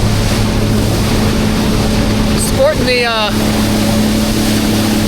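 A Sea-Doo personal watercraft moving through sea water, a loud steady engine drone with constant wind and water rush close to the microphone, while someone briefly speaks over it.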